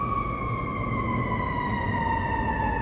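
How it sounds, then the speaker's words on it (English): City emergency vehicle sirens wail loud and steady on a slowly falling tone, overlapping layers of siren over a rumbling urban traffic backdrop, with no talk. "Oh, more sirens! I'm deaf with all this noise."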